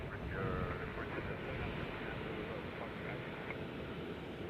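A jet airliner going around at Nashville International Airport, a steady broadband engine roar that holds loud and continuous throughout, with faint voices underneath.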